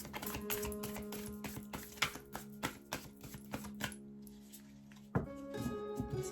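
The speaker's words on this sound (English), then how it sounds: "Cards are a little bit wide, so it's harder to shuffle them." Stiff, slightly wide tarot cards riffled and tapped together in quick, uneven bursts of crisp clicks and flutters, close up, with a brief pause before the shuffling resumes.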